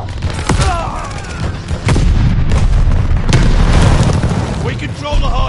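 Incoming enemy artillery shells explode in a video game firefight, sharp loud booms and cracks landing repeatedly over continuous rumbling gunfire, with voices calling out amid the noise.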